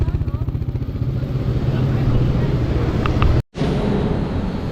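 A CFMoto Dual 230 motorcycle on its stock exhaust runs steadily up close with a loud, pulsing low rumble, cut by a brief gap of silence before continuing.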